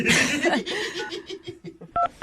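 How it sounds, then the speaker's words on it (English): A telephone being dialed to call someone: a few short keypad tones at the end, following laughter and chatter from people in a radio studio. "You about ready to give him a call, see if we can get him on the phone?"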